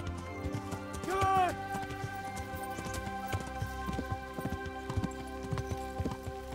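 Horse hooves clip-clop in a steady walking rhythm while riding a white horse in Kingdom Come Deliverance, with a brief whinny early on and a game music bed underneath.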